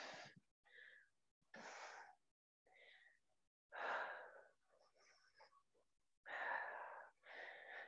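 Slow, deep breathing during an exercise workout, audible inhales and exhales in separate bursts with short pauses between, close to the microphone and fairly soft.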